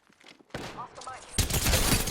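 Gunfire bursts from an Apex Legends battle royale match, starting near mid-clip and growing into a loud, dense volley, with a voice speaking briefly underneath.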